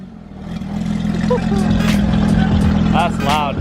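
A 2015 Porsche 911 GT3 engine with a 9,000 RPM redline revs loudly and steadily, its rising whine mixed with wind rush, while a voice briefly speaks over it.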